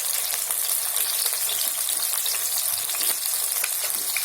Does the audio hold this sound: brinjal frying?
yes